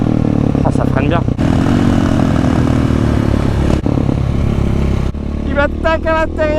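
A KTM supermoto, either a 500 EXC-F or a 690 SMC-R, roars close by as it is ridden hard, its engine note rising and falling through revs with brief gaps between passes.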